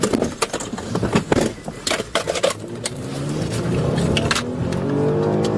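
A fleeing suspect's car speeds away during a police chase, its engine roaring and rising in pitch as it accelerates hard, loud and close, with tires squealing and a police radio crackling over the top.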